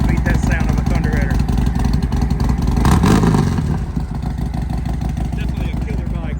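A 2019 Harley-Davidson Street Glide Special with a Thunderheader exhaust runs close by, its deep, loud, throbbing rumble steady throughout with a brief swell of revving midway, and a voice talking over it.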